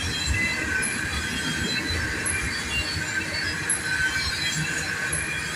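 Train wheels squeal steadily against the rails as cars roll around a bend, a loud, continuous metallic screech over a rumbling bed of rail noise.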